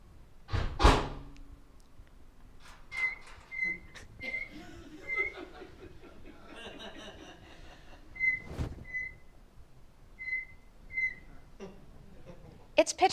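A microwave door opens and shuts with a thump, then a starling imitates the microwave, repeating short, pitch-steady electronic beeps in spaced pairs and runs, with light background noise.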